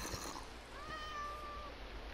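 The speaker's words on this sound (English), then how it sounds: "Oh, it's a cat!" A single drawn-out cat meow in the Minecraft PlayStation 4 game, thin and tonal, rising then fading, heard fairly faint over a low steady background.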